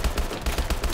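Rapid gunfire from a weapon in Call of Duty: Advanced Warfare, a quick even stream of about eight punchy shots in under a second, loud and without talk.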